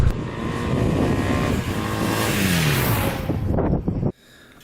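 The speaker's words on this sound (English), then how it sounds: "first ride on the 1982 Honda 450" A 1982 Honda 450 motorcycle roars loudly close by as it is ridden, the engine note rising and falling steadily before cutting off abruptly near the end.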